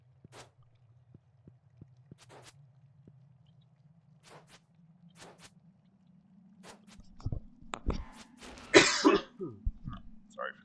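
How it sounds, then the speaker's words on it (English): Near the end, a person at a desk with a faint background hum lets out a few harsh close coughs and throat-clearing, loud against earlier quiet with scattered small clicks and taps. "Sorry for the cough."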